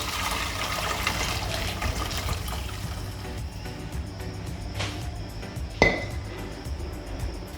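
Homemade chicken stock (yakhni) for chicken pulao is strained. A soft, steady pour and trickle of liquid runs throughout, with a couple of faint clinks of a strainer or pot.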